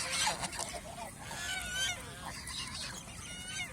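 Several geese honk in a noisy cluster on a goose farm, calls overlapping with rising and falling tones against steady background noise.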